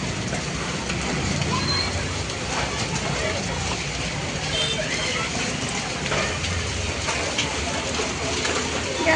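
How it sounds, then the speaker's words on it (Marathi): Hailstones pour down in a heavy hailstorm, a dense, continuous hissing patter of many small impacts that stays loud and even throughout, with a voice talking over it. "गारांचा पाऊस. गारा पडतायत."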